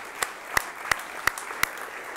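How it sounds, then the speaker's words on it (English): Five sharp, evenly spaced claps ring out at a slow, steady pace for Brian Squair at an evening event, too sparse and faint to sound like a full crowd and with no voices over them. "a round of applause for Brian Squair"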